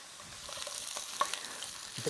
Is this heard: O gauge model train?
no